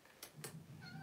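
A cat meows in short, faint cries, two quick calls followed by a longer drawn-out one, heard softly in a quiet indoor room.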